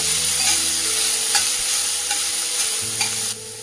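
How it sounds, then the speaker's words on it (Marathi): Cumin and mustard seeds sautéing in hot oil on a gas stove, a steady loud sizzle with faint periodic stirring scrapes, close and continuous without any voice, dropping slightly at the end. "जिरे मोहरी आणि आता हा थोडासा परतून घ्यायचा"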